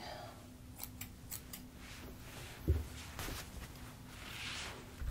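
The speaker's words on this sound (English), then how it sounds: "Scissors are great for this." Scissor blades snip in quick, light bursts close by, with a slightly louder cut partway through and a quiet room behind.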